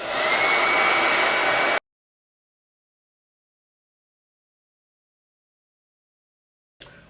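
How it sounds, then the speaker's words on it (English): A hair dryer blows loud and steady for under two seconds while drying chalk paste, then cuts to silence before starting up again briefly at the end. "I personally like a hair dryer."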